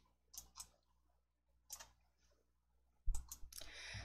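Sharp mouse clicks while working in an Excel spreadsheet: paired quick clicks near the start, one more after a pause, then a dense burst of clicks and clatter at the end, close and distinct over near silence.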